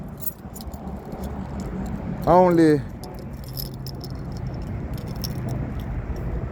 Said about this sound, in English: these three are my new keys.